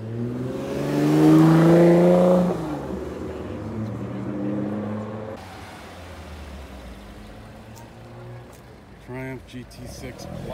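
A Jaguar XJS car at an outdoor car show gives a loud, close engine rev that swells for a couple of seconds and then fades to a lower rumble, with people talking throughout.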